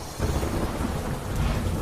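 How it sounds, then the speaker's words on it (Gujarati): Heavy rain pours in Daman as thunder rolls, a low continuous rumble beneath a thick wash of rainfall, steady and fairly loud throughout. "દમણના અનેક વિસ્તારોમાં ધોધમાર વરસાદ"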